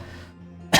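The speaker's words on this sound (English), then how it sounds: "started coughing" A single sharp cough bursts out close and loud at the very end, after a stretch of quiet low hum.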